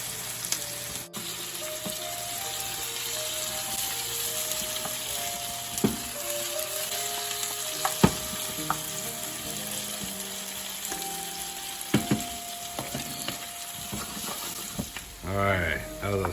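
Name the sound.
bell peppers frying in a pan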